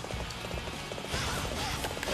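Hooves pound in a quick galloping rhythm as a horse runs in Dynasty Warriors 7, loud and close against a busy game soundscape of clashing noise.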